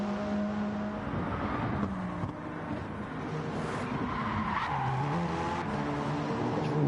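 A rally car in a racing video game drifts hard into a corner with the back end sliding out, its engine droning loudly and continuously beneath a rough, sustained tire-skid noise.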